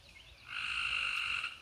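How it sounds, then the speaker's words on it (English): Tree frogs croak in the countryside in a steady, loud, high trilling chorus that swells in after a quieter start and continues without any talking. "We got tree frogs all around us."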